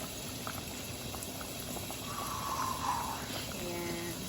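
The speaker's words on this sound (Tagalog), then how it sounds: "Nagpapa ano, bula or kulo ako ng balatong." A pot of mung beans bubbles and simmers steadily with soft gurgling and popping, a continuous low boiling sound close by with no talking.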